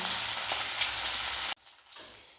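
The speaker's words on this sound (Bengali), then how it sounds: "এই মশলাটাকে ভালো করে আমি কষিয়ে নেব।" Spice paste sautéing in a pan for kosha mutton with poppy seed, a steady loud sizzle of frying that cuts off sharply partway through, leaving a quieter hiss with a faint scrape.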